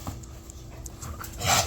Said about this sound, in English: Dogs are out here playing